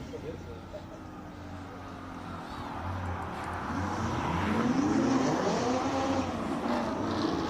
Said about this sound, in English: Here is the beautiful Ferrari 488 GTB, Niven Maestri.